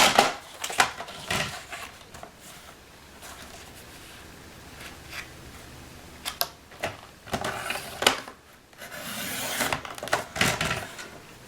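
Paper being trimmed for a scrapbook memories page, heard as a few short crisp cutting and handling noises scattered through a quiet room, close to the microphone.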